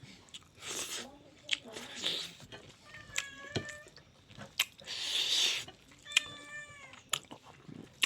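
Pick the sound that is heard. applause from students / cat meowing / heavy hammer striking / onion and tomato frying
cat meowing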